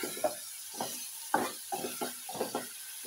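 Onions sizzle softly in a pan with a little cooking fat while a utensil turns them, giving a steady row of gentle scraping stirs at an even pace over a faint hiss, with no talking.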